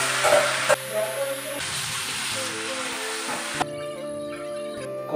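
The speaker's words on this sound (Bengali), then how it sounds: "ওই জন্য আলুটা ভেজে নিই, হালকা হালকা লাল হয়ে গেছে" Potato pieces fry in a home kitchen pan as they turn lightly golden, giving a steady broadband sizzle with occasional stirring clatter and a change in texture partway through, with no talk over it.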